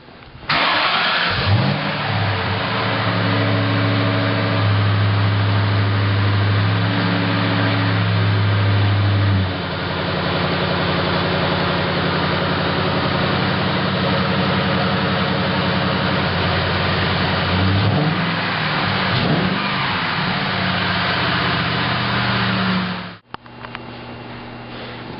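Engine of a 2003 Ford Mustang Mach 1 V8 with a FlowMaster exhaust, idling and revved repeatedly in steady bursts, loud and close, with a brief cut near the end and no talk.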